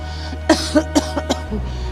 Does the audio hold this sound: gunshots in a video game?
no